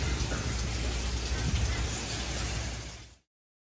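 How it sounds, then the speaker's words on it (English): Steady rain falls in Runcorn, Brisbane. It forms a dense, continuous broadband hiss of drops on surfaces for about three seconds and then cuts off abruptly. "look at the rain in Runcorn today"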